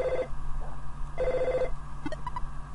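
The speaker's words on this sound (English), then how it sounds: "Did you hear a phone ringing?" A telephone rings in the EarthBound video game, two short electronic ring bursts separated by a pause, followed by a few brief chiming blips.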